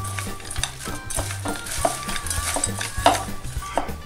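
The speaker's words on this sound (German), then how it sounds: "Und geben die Petersilie zu den Zwiebeln. Und mischen die ganze Sache" Chopped parsley and onions are mixed together in a bowl for lamb kebabs, giving a steady close scraping and stirring with soft rhythmic rustles and faint clinks, and no voices.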